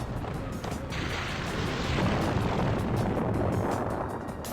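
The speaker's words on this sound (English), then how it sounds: "Roblox eruption explosion noises" A volcanic eruption explosion in a Roblox game, a sustained loud roaring rumble that builds and holds with no talk.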